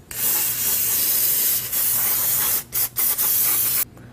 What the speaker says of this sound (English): get some brake cleaner, spray that off, and turn this as you go so you can get it nice and clean all the way around